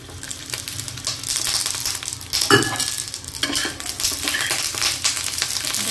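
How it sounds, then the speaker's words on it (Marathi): Garlic hitting green chilies roasting in a hot pan, a steady loud sizzle with stirring scrapes and a sharp clatter midway, no voices. "मिरच्या भाजत आल्या की मग मी लसूण टाकणार आहे।"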